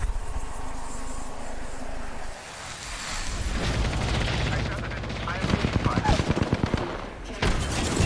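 Gunfire in Apex Legends, dense bursts of shots rattling out over a steady game rumble, growing sharper and more rapid toward the end, with a player's voice talking over it.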